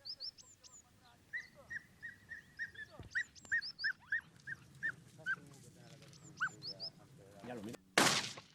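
Hunting dogs flushing rabbits out of cover in the field yelp and whimper in a rapid series of sharp, high cries, with birdsong in the background and a loud burst near the end.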